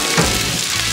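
Reuben cheesesteak sauce mixture sizzles on a Blackstone griddle, a loud, close, continuous hiss lasting about a second with no talk.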